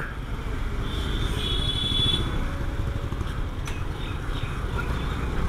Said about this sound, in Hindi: Traffic is back.